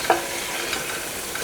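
Steady frying sizzle of chicken and onion in a pan, a continuous crackling hiss with a few light stirring clinks, close and moderately loud, no talking.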